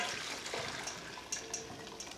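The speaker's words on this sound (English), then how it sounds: "Now we pour our scalded milk on top of the butter and sugar" Hot scalded milk poured over cut-up butter and sugar in a bowl for cinnamon roll dough, a soft, close liquid splash and gurgle with a couple of brief clinks near the end.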